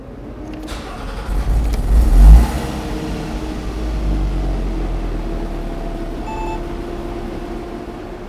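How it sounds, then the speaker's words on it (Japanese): A 2011 Porsche Boxster (987) 2.9 engine cranks and fires up with a brief rev, then settles into a steady, low idle rumble close by. "ではエンジン始動していきます。"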